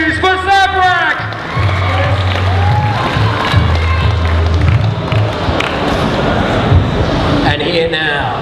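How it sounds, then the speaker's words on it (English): An audience at a cosplay session of a gaming expo claps and cheers steadily for a costumed performer, a dense wash of applause with whoops, while an amplified voice talks over the start and end. "Clap your hands, please, for Zabrak!"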